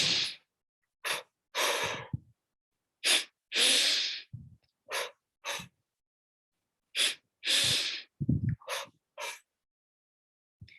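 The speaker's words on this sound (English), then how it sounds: "we breathe twice through the nose and we exhale twice through the mouth" Paired breaths for yoga practice: quick double sniffs in through the nose alternate with two sharp, breathy exhales out through the mouth, repeated in a steady pattern, close and alone with silence between rounds.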